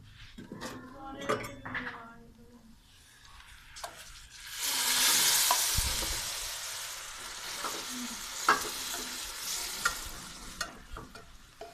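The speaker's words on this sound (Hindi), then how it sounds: "अब हम इसमें डालेंगे सूजी।" Semolina tipped into hot cardamom sugar syrup in a pan for sooji halwa bursts into a loud hissing sizzle midway, surrounded by spoon clinks and scraping stirs against the metal pan.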